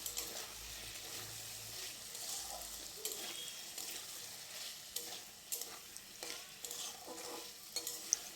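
Green chilies with turmeric sizzling and being stirred in a pan for ghugni, a soft crackling fry with scraping stirs and occasional clinks, fairly quiet and close.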